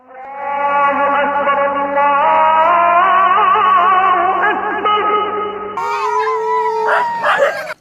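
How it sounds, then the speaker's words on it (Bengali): A dog howls in long, sustained, wavering tones close by, the howl running unbroken for several seconds before shifting into higher, more strained cries near the end. "আজানের সময় কুকুর ডাকে কেন?"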